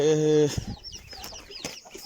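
Hens cluck and chirp amid a mixed farmyard flock of geese, ducks, turkeys and chickens at feeding time in a garden, opening with a sustained harmonic call followed by scattered short calls at moderate distance.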